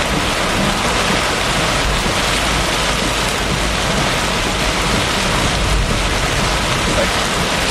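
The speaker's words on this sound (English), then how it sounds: "A bit of strong thunderstorm where most of the lighting is cloud to cloud." A strong Florida thunderstorm with mostly cloud-to-cloud lightning: steady, loud rain pours throughout, and a low, continuous thunder-like rumble sits underneath.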